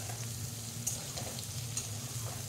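Cauliflower pieces fry in oil with a faint, steady sizzle and light crackle, with a couple of soft spatters and no talking.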